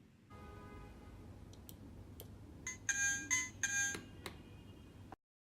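A wireless doorbell receiver rings with a short run of bright electronic chime notes over a steady low hum, then falls silent.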